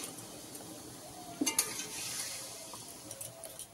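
Spiced masala for a Bengali fish curry sizzles softly in a pan just after a splash of water is added, with a brief sharp hiss and a clink of a utensil, then a steady low fizz.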